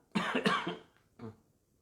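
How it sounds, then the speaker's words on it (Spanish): A person coughs up close, lingering after an illness: two harsh bursts in quick succession, then a shorter third cough after a brief pause, in a quiet room. "perdonen la tos esta que me queda después de la enfermedad que hemos pasado"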